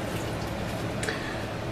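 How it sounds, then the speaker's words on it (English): Hands rinsed under running water in a kitchen, a steady, close hiss of flowing, splashing water that holds level throughout the short span. "Let me rinse my hands."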